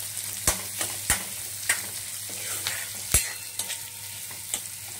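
Chopped onion and green chilli fry for chow mein in a hot pan, a steady sizzle broken by sharp spatula scrapes and taps at irregular intervals, close and alone with no talk.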